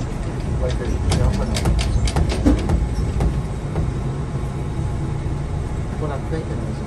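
Interior ride on the PHX Sky Train, an automated airport people mover, with steady low rumble and rolling rail noise, a few brief clicks and clanks early on, and no speech.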